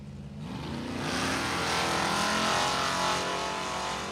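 Camaro drag racing at Numidia Dragway, a loud engine roar that swells and holds steady as the car accelerates down the strip, with no talk over it.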